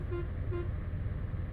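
A bus horn honks twice in quick succession in an Indian bus simulator game, two short toots over a steady low engine rumble.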